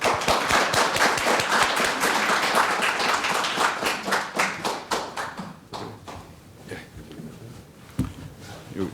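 Audience clapping welcomes a government minister onto the stage at a seminar, loud and dense at first, then thinning out into scattered claps.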